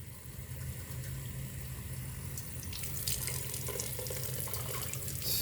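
Water is poured steadily into a measuring container, a continuous close splashing and trickling rush that brightens toward the end as the container fills.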